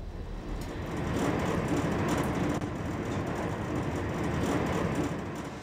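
Steady low rumble of a moving train in the Netherlands, with continuous rolling noise and faint rattles throughout, no voices.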